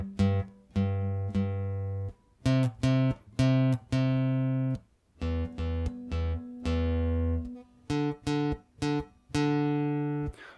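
Acoustic guitar plays the verse picking pattern of a song, clear plucked chords in a rhythmic stop-start groove with short muted gaps, close and moderately quiet, no voice.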